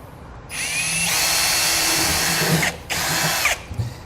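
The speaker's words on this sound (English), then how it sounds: "I'm going to drill right in the center of the hole, all the way through the bed" A power drill whines at high speed as it bores through a metal Ram truck bed, pausing briefly and resuming before cutting off, with no talking.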